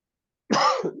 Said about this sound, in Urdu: مجھے تھوڑی کھانسی ہو رہی ہے